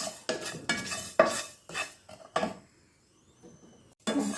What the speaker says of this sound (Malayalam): എള്ള് ഒരു പാന് വെച്ചിട്ട് ഇച്ചിരി ഒന്ന് വറുത്തെടുക്കണം കേട്ടോ